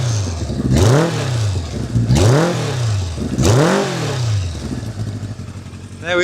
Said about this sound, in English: And a little listen to the exhaust.